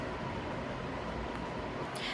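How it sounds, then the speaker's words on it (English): Electric fan running as a steady, dense broadband whoosh, constant and fairly quiet, with no clear variation or other sounds on top. "sorry for the noise, but I need a fan. It's so loud"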